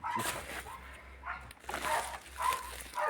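Dogs outdoors near a rural garden plot give soft intermittent whimpers and short yips in a few separate bursts, fairly faint, with low rumbling background noise.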